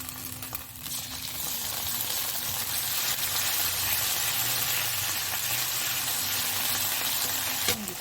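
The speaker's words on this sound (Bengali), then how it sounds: "এবার আদা বাটাটা দিয়ে দেব।" Ginger paste sizzles in a hot pan with garlic paste for rui fish kalia, a steady, close frying hiss that stays even throughout, with a faint clink near the end and no talking.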